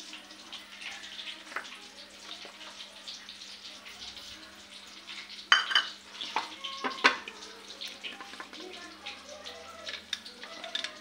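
Cauliflower chutney being mixed with chili powder and salt, a soft wet scraping and squelching with intermittent sharper clinks of a spoon against the bowl, close and fairly quiet.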